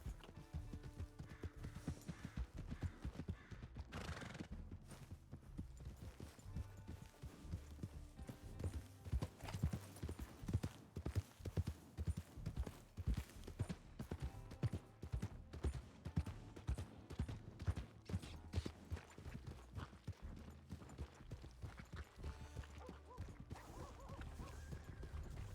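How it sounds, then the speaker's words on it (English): Horse hooves clip-clopping in the video game RedM, a steady run of close, loud hoof beats continuing throughout with a rapid, even rhythm and no talk. "Looks like one of Wallaby's horses"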